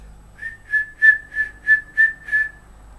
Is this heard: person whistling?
yes